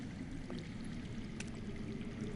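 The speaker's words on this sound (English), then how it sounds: "I hear water. From underground." Underground water flows steadily in the Game of Thrones Telltale video game, a continuous rushing, pouring wash that holds even and moderately loud, with no voices over it.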